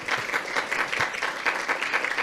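An audience applauding at the end of a lecture on randomization in clinical research, a dense, steady patter of many hands clapping together, fairly close and lasting a couple of seconds.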